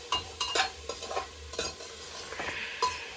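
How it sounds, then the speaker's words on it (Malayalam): Vegetable biryani ingredients are stirred in a pressure cooker with a metal spoon, producing irregular close scrapes and clinks in quick bursts over a faint sizzle. "ഇനി നമുക്ക് ഇളക്കിയെടുക്കാം."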